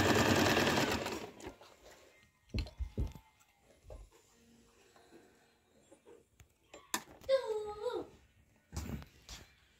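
A domestic sewing machine stitches around the folded edges of fabric daisy flowers for a patchwork cushion cover, running in one loud burst at the start, then short bursts of handling and clicks with a few faint whimpering, dog-like sounds.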